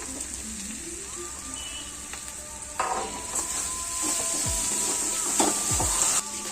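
Soybean curry frying in a pan after Kashmiri chili powder and sugar go in: a steady, soft sizzle under occasional stirring scrapes and light utensil clinks.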